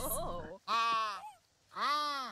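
A llama in a chicken farming video game gives two loud, drawn-out bleats close by, after a brief burst of other sound.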